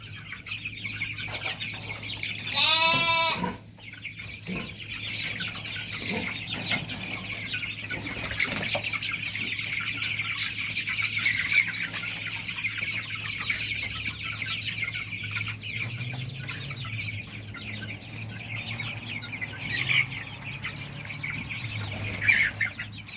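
Many meat chickens packed in a 6 by 12 stall cluck and murmur together in a steady chorus, with one loud nearby squawk early on and occasional louder clucks rising from the flock.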